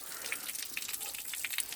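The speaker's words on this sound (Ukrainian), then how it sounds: "Вода, да, дивіться, ще відносительно чистенька." Water gushes out in a steady, fairly faint splashing stream on a farm, with small droplet splashes scattered through the short burst.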